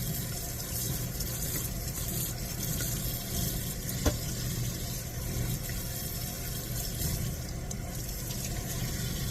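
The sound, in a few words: washing dishes under running tap water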